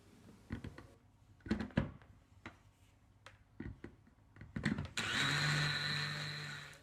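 A blender blitzes ingredients for a western rock lobster dish meant for the barbecue. A few knocks and clatters come first, then a loud, steady whirring roar runs to the end.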